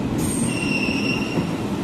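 A train at Madan Mahal railway station in Jabalpur gives off loud, sustained high-pitched wheel squeals, several steady tones layered over a rumbling rail roar.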